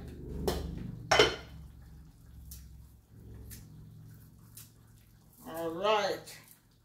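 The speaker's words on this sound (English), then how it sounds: "So I'm going to drop the celery in there." Chopped celery drops into a cooking pot with a few sharp clatters and soft wet thumps. A person talks over the sounds, and a voice is heard near the end.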